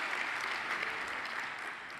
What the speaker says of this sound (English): please hold your applause until we conclude all of the introductions